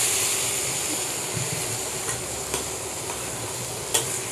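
Milk is stirred into almond halwa in a pan over low heat, a steady soft sizzle with scraping stirs and a few small clinks of the spoon against the pan.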